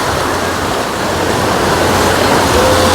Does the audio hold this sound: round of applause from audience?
no